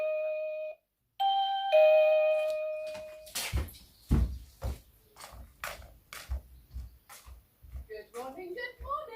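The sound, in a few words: doorbell ringing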